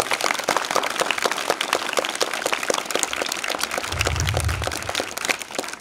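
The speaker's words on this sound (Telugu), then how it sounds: "వచ్చిన మల్లన్న గారికి మీరు మనం అందరం చప్పట్లతో స్వాగతం చెప్పాలి" Schoolchildren at a government school clap to welcome a guest named Mallanna, a dense, steady round of many hands clapping that is loud and sustained throughout, with a brief low rumble near the end.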